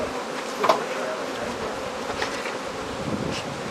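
Honey bees buzz steadily around an opened hive during a hive-splitting class, a close, continuous hum with brief louder passes and light handling clicks.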